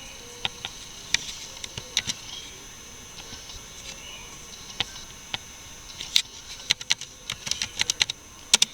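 Keystrokes on a computer keyboard as a tracert command is typed into a PC's command prompt: irregular clicks with short bursts and pauses, close and fairly crisp, with no talking.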